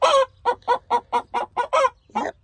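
Chickens in a coop clucking in a steady series of about nine short, close, fairly loud calls spaced roughly a quarter second apart, with no other sound between them.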